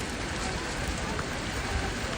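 Steady rain hissing down in cold, windy St. Petersburg street weather, a dense broadband wash that continues without a break and has no talk over it.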